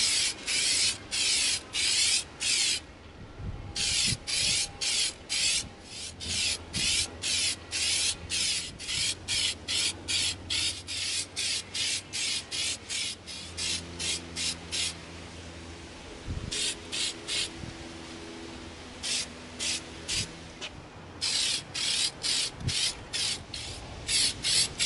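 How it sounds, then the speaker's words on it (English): Spray can applying Plasti-Dip rubber coating to an EVA foam axe: repeated loud hissing bursts in steady rhythm, with short pauses between passes, close up and without talk. "We're gonna begin coating our axe with our Plasti-Dip"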